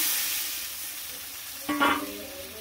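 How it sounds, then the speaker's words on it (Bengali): A quiet simmering curry in a pan, then water splashes in and a sudden loud sizzle bursts up, quickly settling back to a softer bubbling hiss. "এই জল দিয়ে দিলাম"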